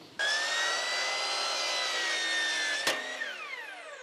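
A power miter saw slices through crown molding at a 45-degree angle for a left-hand outside corner trim joint, a loud steady whine of blade through wood lasting several seconds, then winding down after the cut finishes.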